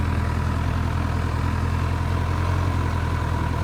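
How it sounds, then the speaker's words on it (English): A sports motorcycle idles steadily at low speed while it is ridden through slow maneuvers and a U-turn. The engine hum is constant and fairly close, with no speech over it. "the idle on this motorcycle is high enough where I can go through here"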